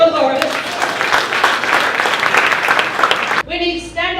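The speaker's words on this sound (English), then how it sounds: "A round of applause for Lawrence." Crowd applause at a dark concert, a dense wash of clapping from the audience lasting several seconds before it cuts off abruptly, followed by a brief spoken voice.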